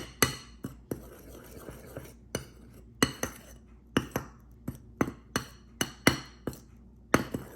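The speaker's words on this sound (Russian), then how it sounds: "Перемешиваем все тщательно." A spoon stirs a foaming baking soda and vinegar mixture in a bowl, giving sharp, close clinks at a fairly steady rhythm, about two per second, with no voices.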